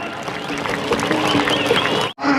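Crowd applause at a malakhro wrestling match in Mithi, Sindh, a dense continuous patter of clapping mixed with voices for about two seconds before a brief break.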